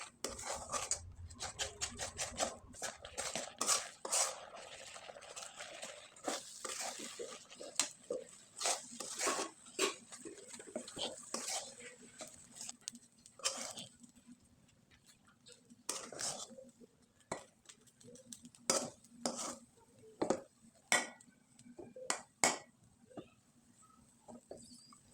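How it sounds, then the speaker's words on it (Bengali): A spoon scrapes and clinks against a pan while semolina dough cooked in milk is stirred, giving irregular taps and scrapes, with soft speech and whispering now and then underneath. "আর এখন খুব ভালোভাবে নেড়েচেড়ে ডোটাকে তৈরি করে নিতে হবে।"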